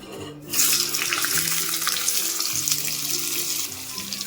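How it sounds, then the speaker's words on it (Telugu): Paneer pieces drop into hot oil and set off a steady, close sizzling hiss that starts abruptly and runs evenly without voices. "పన్నీర్ ముక్కలు తీసుకొని మనం ఈ నూనెలో వేసేసుకోవాలి"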